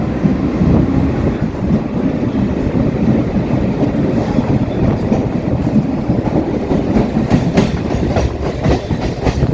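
A Kolkata Chakrarail circular suburban train pulls out of the station, its wheels rumbling loud and steady with a faint rhythmic clatter over the rails throughout, with no voices.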